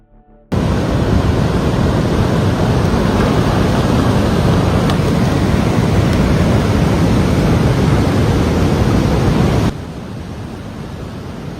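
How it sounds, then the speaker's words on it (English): A powerful mudflow surging down Whitney Creek at Mount Shasta makes a loud, continuous broadband roar like heavy rushing water. It starts abruptly and holds steady for about nine seconds, then drops suddenly to a quieter rumble. "A major mudflow suddenly surged into Whitney Creek on August 2nd, 2022."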